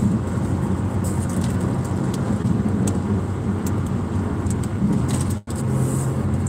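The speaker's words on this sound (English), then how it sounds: "What am I doing? I'm driving." A car drives along the road, its steady broadband road and engine rumble continuing close and even throughout, with a brief dropout near the end.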